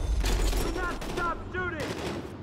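Police being shot at in Battlefield Hardline, with heavy gunfire as a loud, continuous rattle of shots. Excited voices talk over it, and rising vocal tones cut through midway.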